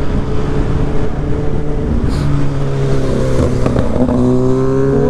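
Motorcycle passing on a mountain road near a checkpoint along the Marilaque route in Rizal, heard as a steady engine drone with rising revs against continuous road and vehicle noise, fairly loud and close.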